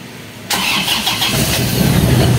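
An Isuzu Crosswind engine turns over and catches at once. It settles into a steady, loud, close idle with no talking.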